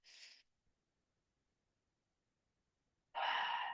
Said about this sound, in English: let's take a big deep breath in